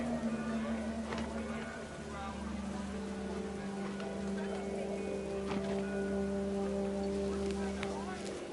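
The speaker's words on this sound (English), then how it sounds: "The rain came down in buckets then," Heavy rain falls in the video game What Remains of Edith Finch, a steady wash of rainfall with low tonal hums beneath, while a voice narrates over it.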